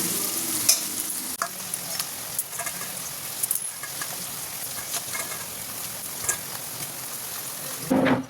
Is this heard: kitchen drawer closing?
no